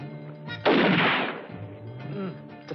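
A single loud gunshot cracks at a shooting target in a western film, its blast decaying over about a second, with music and ambience around it.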